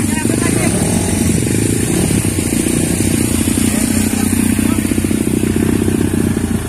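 An old trail motorcycle running loudly and steadily up close, its rough, rattling engine drone filling the whole stretch, with a voice talking over it.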